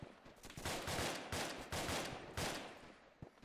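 Sustained automatic gunfire in Arma 2 during a convoy ambush, repeated heavy bursts roughly every half second with distant crackle between, fairly faint overall and with no talking over it.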